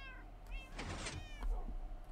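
Cats meowing in the Minecraft video game, two or three short harmonic meows in quick succession, the middle one loudest, over a low steady background hum.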